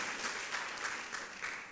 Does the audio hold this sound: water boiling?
no